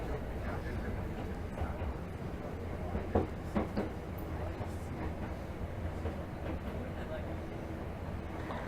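A Tokyo Metro Hibiya Line 13000 series subway train runs between stations on the Naka-Meguro to Kita-Senju route, with a steady low rumble and intermittent clickety-clack from the rails throughout.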